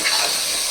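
A brief rushing pour of water into a cooking pot for chicken biryani, a steady hissing splash lasting under a second.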